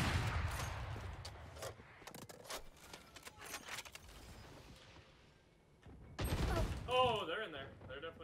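Bursts of gunfire in the tactical shooter Valorant, scattered sharp shots through the first half and a louder cluster near the end, with game sound effects and a voice talking over parts.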